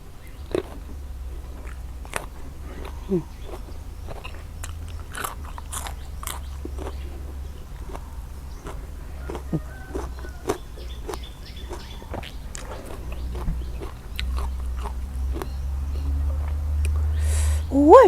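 Someone up close eating raw beef larb koi with fresh vegetables, with scattered soft bites, crunches and wet chewing clicks at an uneven pace over a faint low rumble.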